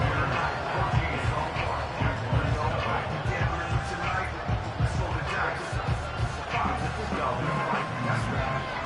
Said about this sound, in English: Big crowd on hand.